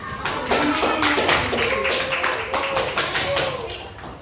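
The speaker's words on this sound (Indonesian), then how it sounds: "Kita beri tepuk tangan." Classroom applause after a student presentation: a dense, steady patter of many hands clapping, fairly close and filling the room for several seconds, with faint voices murmuring underneath.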